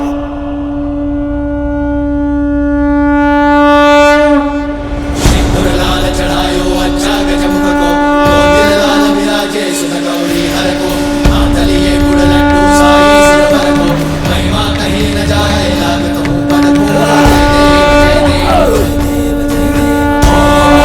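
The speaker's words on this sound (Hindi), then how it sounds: "नारायण के शंख की ध्वनि है" A blown conch shell gives a loud, sustained horn-like blast that drones on with a steady pitch, swelling and wavering for a long stretch while other sounds churn beneath it.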